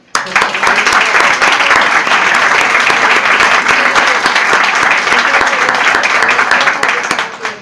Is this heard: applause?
yes